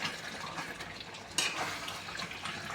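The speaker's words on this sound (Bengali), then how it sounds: "মাংসটা ফ্রাই হচ্ছে" Chicken meat frying with spices in a covered pan for a Bengali-style home chicken curry, a steady soft sizzle and crackle running throughout with one brief louder burst midway.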